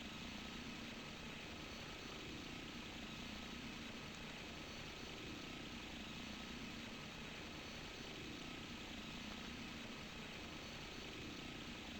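A helicopter in flight, its engine and rotor making a steady, unbroken drone that holds at an even loudness throughout, with no talking.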